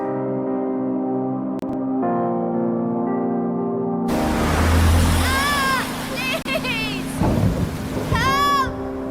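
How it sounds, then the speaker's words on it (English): A thunderstorm with rain from a video game trailer: a dense rush of rain and rumbling thunder swells in after a tonal music passage, with voices speaking over it. "A major storm's heading for the coast."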